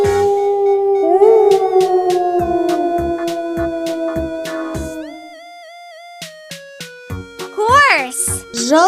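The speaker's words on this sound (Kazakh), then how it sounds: "Wolf." A cartoon wolf lets out a long, rising then falling howl over light background music, followed by a few short yips and tones.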